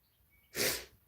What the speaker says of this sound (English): I've just sneezed